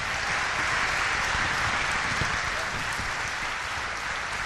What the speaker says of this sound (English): Warm round of applause there for Helen Smith as well as for Margaret Burg